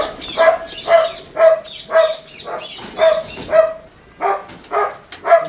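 A dog barks repeatedly and loudly nearby, about ten rhythmic barks in quick succession with a brief pause partway through.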